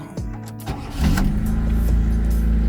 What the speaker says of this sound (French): normalement, ça doit démarrer au quart